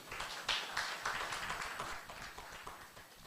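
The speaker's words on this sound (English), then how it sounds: "Until she gets here, let's clap for her." Conference audience clapping for an arriving panelist, a scattered, light patter of hands heard from a distance, rising briefly then thinning out, fairly quiet with a faint room murmur.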